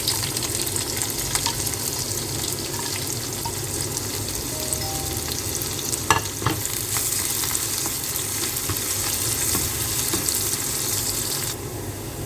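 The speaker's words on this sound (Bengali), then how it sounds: "একটু সময় শুকনো মরিচ ভেজে নিব।" Dried red chillies frying in hot oil before onion and garlic go in, a continuous loud sizzle with faint spatters and a brief burst of crackling partway through, no talk.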